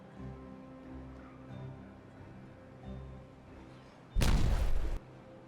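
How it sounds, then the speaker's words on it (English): A dynamite blast in Timberborn, a single loud, close explosion lasting under a second and rising abruptly over a quiet ambient music bed. "I hear dynamite."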